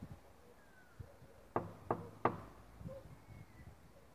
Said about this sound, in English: I'm now going to tap on the door.